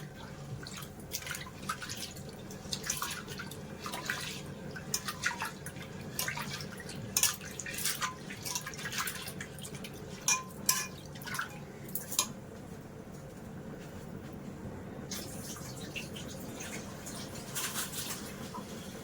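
Water sloshing and splashing as lentils are washed in a pot for muddapappu, in soft, close, intermittent bursts with brief drips and quiet pauses between them.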